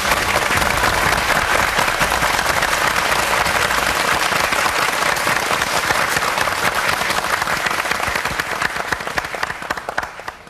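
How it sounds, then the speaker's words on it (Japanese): An audience gives dense, sustained applause to welcome the mechanic about to strip down a Honda RC166 racing motorcycle, with many hands clapping steadily before the sound tapers off at the end. "どうぞ皆さん拍手でお迎えください。"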